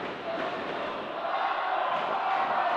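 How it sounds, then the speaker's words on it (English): Rival fans of the Sailors and Vaqueros roar against each other at a varsity high school wrestling match, a steady, distant wash of crowd cheering and chanting filling the gym without pause. "We got dueling crowd noise now."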